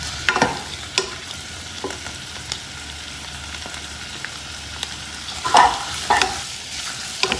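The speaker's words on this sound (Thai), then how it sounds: "นำซอสปรุงรสนะคะที่เหลือนะคะจากซองที่เราคลุกจากตัวของ วุ้นเส้นมอคู่นี้นะคะ นำมาผัดกับเนื้อหมู" Pork being stir-fried with leftover seasoning sauce, a steady close sizzle with scattered clinks and scrapes of the utensil against the pan, a louder cluster of strokes near the end.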